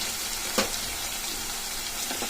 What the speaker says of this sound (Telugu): ఆ తర్వాత మనం కరివేపాకు వేసుకుందాము